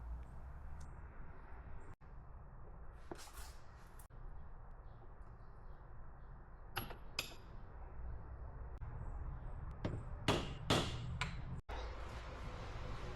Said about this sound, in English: Tap the pins with a hammer and screwdriver to make sure that they're fully seated in the caliper.